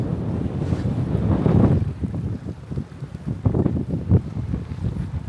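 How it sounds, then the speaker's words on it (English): Strong wind roars steadily across a fishing boat out at sea, gusting and swelling in loud, buffeting waves of noise with no voices. "Ooh, the wind really picked up."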